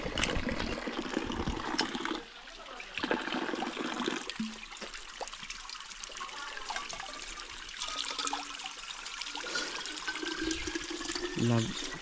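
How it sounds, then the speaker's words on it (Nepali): Water runs from a cut node of a bamboo stem, set up as a drinking spout in a nature reserve. It is a steady trickling pour with a few louder gushes, with people talking nearby. "बाँसको आँख्लामा यस्तो काटेर पानी आयो"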